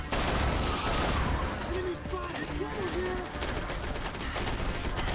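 Turret machine gun fire in the video game Area 51 (2005), a loud sustained rattle of rapid shots mixed with booms and explosions, with voices speaking over it.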